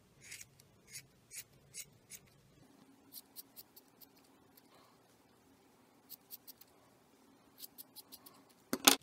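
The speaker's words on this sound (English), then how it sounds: "I'm going to trim it evenly all the way around." Scissors make a series of soft, quick snips while trimming a crocheted yarn pom pom. The snips come in small clusters with short pauses between them, and each one is faint and close.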